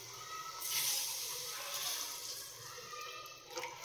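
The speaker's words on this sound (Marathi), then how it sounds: "आणि आता यात पाणी टाकून द्यायचं." Water poured into a cooking pan on a gas stove for Maggi noodles, a steady close splashing hiss that swells early and carries on to the end.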